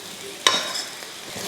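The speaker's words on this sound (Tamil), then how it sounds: "உருளைக்கிழங்கு உடையாமல் பார்த்து நல்லா கிளறி விட்டுக்கோங்க." Potato pieces stirred and fried over a high flame, a sharp scrape of the spoon followed by a bright, steady close sizzle.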